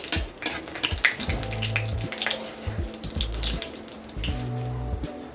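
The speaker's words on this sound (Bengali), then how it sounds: "আর দিয়ে দিচ্ছি সামান্য পরিমাণ কালো জিরে, ভালো করে ভেজে নেব" Dry red chilli and nigella seeds crackle and sizzle steadily in hot oil for dal tempering, a close, continuous frying hiss with bursts of popping and a low hum underneath, no talking.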